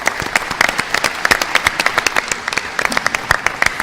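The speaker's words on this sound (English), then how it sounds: "please join me in a round of applause for the Business Times as well as the contributing sponsors" A round of applause from a business event audience at a Pittsburgh Business Times gathering, thanking the paper and its sponsors; individual claps are distinct and fairly close, a moderate crowd clapping steadily for a few seconds.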